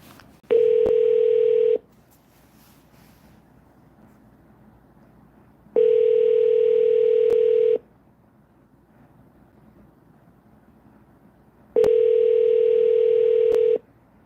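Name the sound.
telephone ringing tone while placing a call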